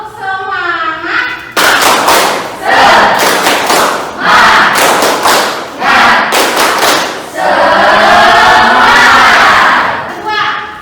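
A classroom of students does a rhythmic spirit clap in several loud, sharp bursts, with group shouts and cheering mixed between the claps.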